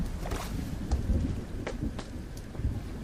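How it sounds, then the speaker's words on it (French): Thunder rumbling during a rainstorm outdoors: low, rolling booms under a steady hiss of falling rain, with a few brief cracks standing out. "j'ai entendu des mauvais bruits là, j'ai entendu des éclairs, ça m'inquiète un petit peu"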